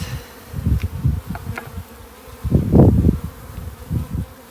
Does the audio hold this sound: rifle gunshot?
no